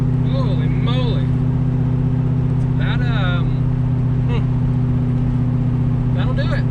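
A 600HP drift Corvette's engine drones loud and steady at close range during a test drive, a constant low rumble with some higher tonal whines above it and a voice talking over it at times.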